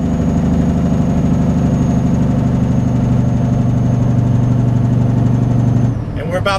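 A semi truck engine held at about 1500 RPM while slowing toward 35 mph on an Arizona road, a loud steady low drone filling the cab that cuts off abruptly near the end.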